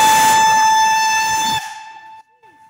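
A loud, piercing steam locomotive whistle on a vintage steam train blows steadily with a hissing edge, then cuts off and fades into a brief echo.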